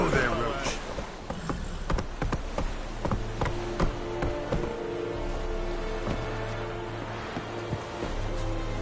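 The horse Roach clopping along in The Witcher 3, with steady hoof beats under a continuous rain-like ambient wash and game sound, moderately loud throughout.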